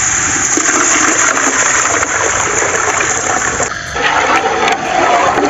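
Lassi and gram flour mixture poured into a cooking pot for kadhi pakora, a steady loud liquid gush and splash lasting several seconds with a brief dip near the end.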